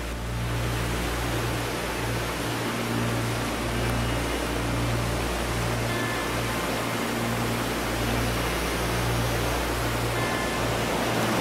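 A mountain torrent in the Ariège Pyrenees rushes beneath a layer of snow, giving a loud, unbroken wash of water noise that holds steady from start to finish with no voices.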